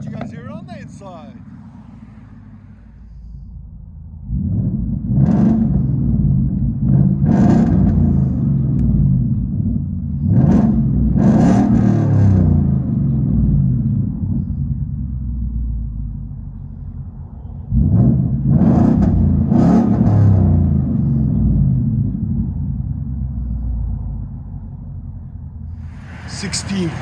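A 2016 Ford F-150 5.0 V8 with true dual exhaust, 2 1/4-inch pipes and 6-inch tips, rumbles from inside the cab: a deep, loud idle that swells in repeated revs with short lulls between them.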